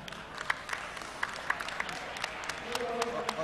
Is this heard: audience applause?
yes